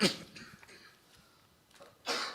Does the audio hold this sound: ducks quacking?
no